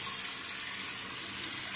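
Water from a tap pours steadily over hands being rinsed, a continuous close splashing hiss with no talk.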